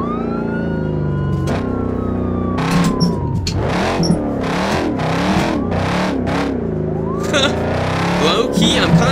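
Dodge Challenger SRT Scat Pack drifting in the BeamNG Drive game, engine revving up and down through gear changes with rising and falling pitch, tyre squeal bursts, and a voice talking over it.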